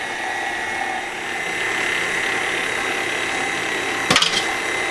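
A hand-cranked food strainer's auger grinds cooked apples into sauce, making a steady close whirring and rasping churn, ended by a sharp brief clatter near the end.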